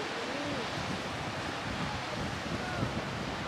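Ocean waves surging at a cave on Jeju as the tide comes in, continuous loud wash of surf and wind noise with faint voices underneath.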